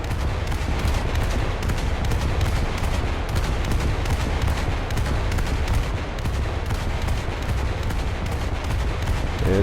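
Naval gunfire from the cruiser Brooklyn in a War Thunder realistic naval battle around the Fuego Islands: a dense, continuous barrage of loud booming shots fired in quick succession, with no talking.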